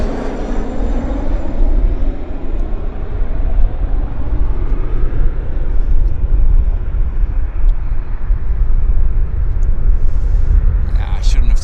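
A King Air turboprop medevac plane at Vancouver International Airport roars loudly and steadily close by, its engine rumble swelling and holding throughout, with a few faint clicks near the end.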